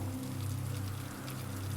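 Steady rain and wind of a tropical storm hiss in a smooth, continuous wash over a low rumble, close and even throughout with no voices.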